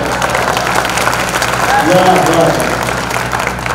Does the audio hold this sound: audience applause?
yes